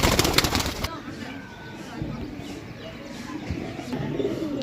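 Pigeons from a batch of twenty birds coo softly and steadily at close range, with some low rustling and a brief burst of louder noise at the start.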